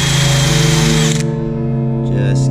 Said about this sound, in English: I'm using my wire brush attachment.